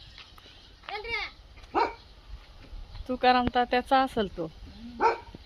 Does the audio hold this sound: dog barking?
yes